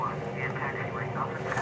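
Simulated Boeing 737NG jet engines in a homemade cockpit hum steadily as the throttle advances, a droning rumble with a faint rising whine, heard under a voice for under two seconds.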